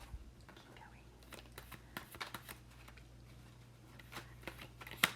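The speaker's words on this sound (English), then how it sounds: "I'm shuffling my cards" Playing cards are shuffled near a microphone during a live stream, giving repeated soft riffling flicks over a low steady hum with faint voices in the background.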